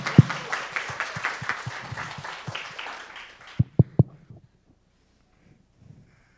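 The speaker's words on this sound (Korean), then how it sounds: "우리 따뜻한 격려의 박수 부탁드립니다." An audience claps warmly for elementary and middle school students about to present a car seat safety policy proposal, steady applause for about three seconds, then a few final claps before it falls silent.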